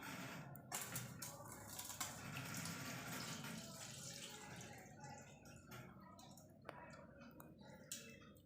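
Water pouring steadily into a container during a candle-and-water experiment, a continuous splashing, trickling stream with a few brief clinks, fairly quiet and close, with no talking.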